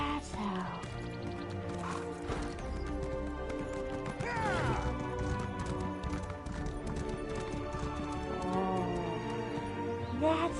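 Horse hooves clip-clop steadily in the Elder Scrolls video game, close and continuous over layered game music, with a person talking throughout.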